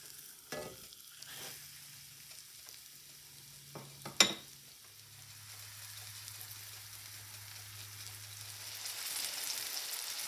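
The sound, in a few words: boneless pork chops frying in a pan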